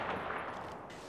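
Rapid gunfire from a weapon in the video game Apex Legends, a continuous dense burst of shots lasting about a second at steady loudness, with no voices over it.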